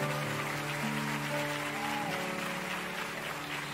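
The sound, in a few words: congregation applause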